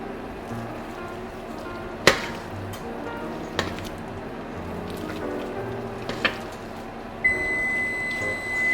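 A kitchen oven sounds a single sustained electronic beep to signal it has finished preheating for home baking, the steady tone ringing out near the end after a few light clatters.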